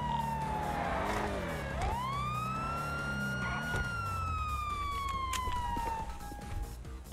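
A police siren wails and sweeps up and down in a police roleplay video game, riding over a car engine's low rumble; the siren is loud and close throughout, with a brief revving swell partway.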